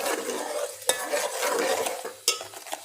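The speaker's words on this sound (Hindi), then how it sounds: "ये मसाले को मिक्स कर लेंगे अच्छी तरीके से" Masala with a tablespoon of garlic and ginger stirred in a pan, a steady scraping sizzle with a few sharp spoon knocks against the metal, close and alone.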